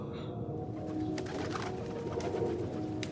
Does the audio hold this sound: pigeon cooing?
yes